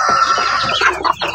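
A young backyard rooster crows close and loud, one strained, slightly broken cock-a-doodle-doo that wavers and cracks toward the end, alone with no talk over it.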